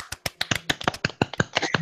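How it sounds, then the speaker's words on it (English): Gentle hand clapping close to a microphone gives a quick, slightly uneven run of about fifteen soft, crisp claps in under two seconds, with no talking over it. "start clapping your hands gently"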